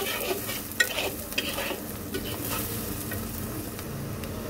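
Coriander and cumin powder are stirred into food frying in a pan for a tengra fish dopeyaja: a soft continuous sizzle with scraping strokes and a couple of sharp utensil clicks against the pan.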